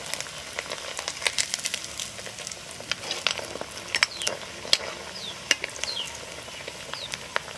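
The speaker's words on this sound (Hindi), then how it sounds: "अब फ्राई करना शुरू करते हैं। दो दो पीस डालेंगे इसमें" Dahi sholay pieces frying in hot oil, two at a time, with a steady bubbling sizzle and frequent sharp crackles and pops close by.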